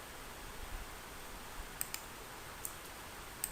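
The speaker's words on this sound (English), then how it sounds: "make a click here" Sharp computer mouse clicks sound against a faint hiss, a few isolated clicks with a close double tap near the end.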